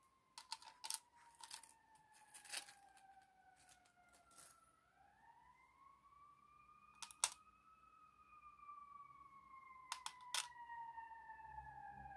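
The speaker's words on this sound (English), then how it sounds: "Emergency siren is going off." An emergency siren wails in slow rising and falling sweeps, faint and distant, while sharp keyboard clicks tap irregularly nearby.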